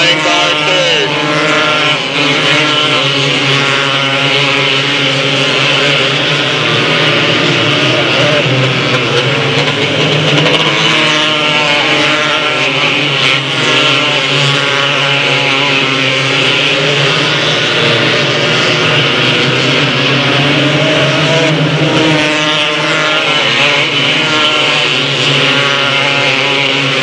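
Race cars circling Delta Speedway, a loud sustained engine drone with shifting pitch as the field passes, continuous throughout, with a race announcer talking over it.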